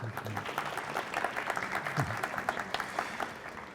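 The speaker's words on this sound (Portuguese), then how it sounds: "Palmas para a Fernanda." Applause from an audience at a corporate communications conference, moderate clapping from a modest crowd, fairly close and uneven, lasting several seconds and thinning toward the end.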